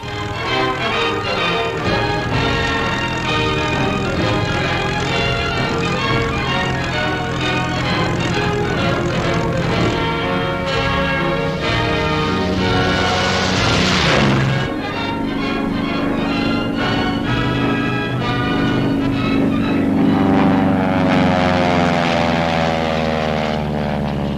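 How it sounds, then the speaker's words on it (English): Harvard trainer propeller aircraft drone loudly and continuously in flight, their engine note holding steady and then shifting in pitch as one passes near, with no talk. "Harvard trainers are used for the preliminary work."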